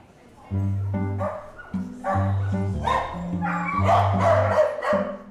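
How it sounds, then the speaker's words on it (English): Several dogs bark and yip in a busy veterinary reception area, with repeated overlapping barks and whimpers close by and people talking underneath. "The reception area is rarely a quiet place."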